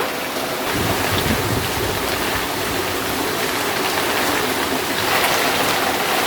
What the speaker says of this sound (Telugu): వర్షం ఎలా పడుతుంది చూడండి